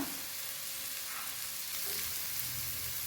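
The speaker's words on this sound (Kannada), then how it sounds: "ಹಾಗಲಕಾಯಿ ಆಮೇಲೆ ಹಸಿಮೆಣ್ಸಿಕಾಯಿ ಉಳ್ಳಾಗಡ್ಡಿ ಎಲ್ಲ ಹೊಂದ್ಕೊಂಡು ಫ್ರೈ ಆಗಿದೆ" Bitter gourd, green chilli and onion fry together in a pan, giving a soft, even sizzle that stays faint and steady with no talking.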